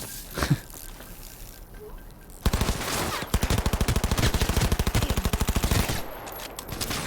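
Pistol gunfire in the video game Cyberpunk 2077 comes as a single early shot, then a long, fast, even string of loud shots that runs for several seconds before stopping.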